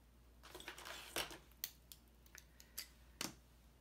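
Scissors cut out a paper butterfly in a series of close, crisp snips, irregular and separate from each other, with no voices.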